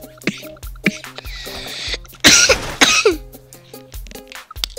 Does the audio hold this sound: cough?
yes